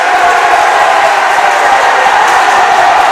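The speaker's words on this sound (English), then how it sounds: "As that first crowd I told you was quiet is now loud as anything" A basketball crowd at a varsity high school game roars loudly and continuously, cheering and shouting in a dense, sustained wall of noise that fills the gym.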